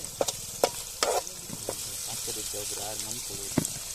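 A spoon stirs masala for a home-style fish curry in a hot pan, with sizzling and repeated sharp scraping clanks up close while a voice talks over it.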